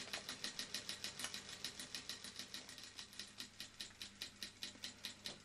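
A Wilesco D52 model steam engine running slowly at low pressure chuffs steadily in a quick, even rhythm of sharp hissing beats, close by and fairly quiet, with no voices.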